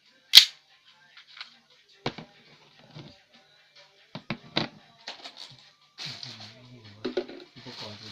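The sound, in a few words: M1911 BB gun dry firing without BBs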